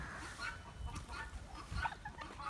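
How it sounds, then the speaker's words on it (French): Hens and a small bearded bantam rooster cluck softly inside a coop, with a few scattered, uneven calls close by and fairly quiet. "Donc le petit coq barbu, petite poule bleue, poule noire."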